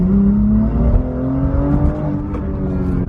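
A car engine revs up hard under full throttle in second gear from 2000 RPM, its pitch climbing steadily, loud and close with a rough, growling tone.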